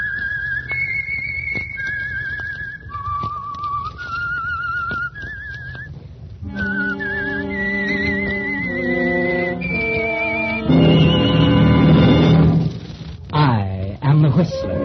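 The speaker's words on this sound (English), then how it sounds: "That whistle is your signal" A lone melodic whistle plays a slow tune, the opening theme of the radio program The Whistler, then orchestral music swells in with sustained chords, building to a loud, full passage.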